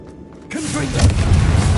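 Confringo spell blast in Hogwarts Legacy, a loud boom that bursts in after a brief quiet lead-in and then rumbles on with a heavy, sustained low roar, close and forceful, with a voice briefly audible as it starts.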